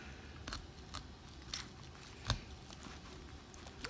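Scissors make a few sharp, separate snips while cutting behind the eyes of a fresh fish during dissection, with one louder cut near the middle against a quiet background.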